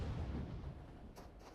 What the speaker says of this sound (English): This is a nade flying in.